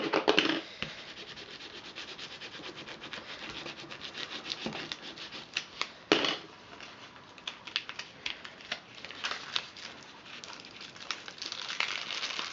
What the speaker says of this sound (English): So we're going to rub this on, make sure it's on there nice and tight.